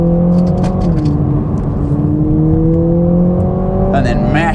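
Toyota Supra 2.0 accelerating hard, a steady engine drone with tones slowly rising through the run and a fresh climb near the end, loud and continuous with talk over it.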